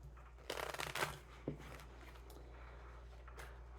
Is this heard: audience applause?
no